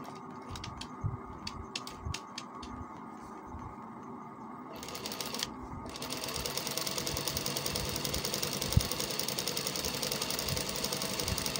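A sewing machine stitches a kameez, first in short bursts with pauses and clicks, then settling into a steady, louder continuous run of rapid needle strokes close by.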